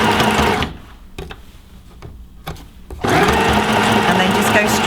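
A domestic sewing machine runs a straight stitch in loud, close whirring bursts at the start and end, with a quieter pause between holding a few clicks and knocks as the fabric is reversed.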